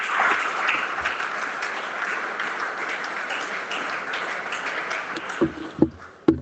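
Church congregation applauding in praise during a French-language sermon, a dense steady clatter of many hands that thins out near the end into a few louder, separate claps.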